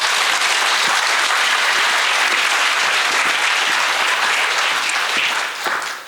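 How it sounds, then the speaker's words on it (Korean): Sustained applause from a large crowd fills the room, loud and steady, then begins to fade at the end. "다시 한번 박수로 구청장님을 환영해 주시기 바랍니다."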